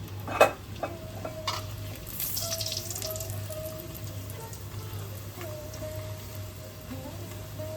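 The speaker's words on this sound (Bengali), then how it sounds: "এদিকে কড়াইতে আমাদের ঘিটা গরম হয়ে গেছে, আমি তা থেকে ছোট ছোট করে লুচি বেলে ভেজে নেব।" Small luchi fry in hot ghee in a wok, a soft steady bubbling sizzle with a faint clink near the start and a low hum beneath.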